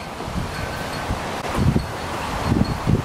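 Wind moves through the leaves in a yard with a soft, uneven rustle, and gusts buffet the microphone now and then.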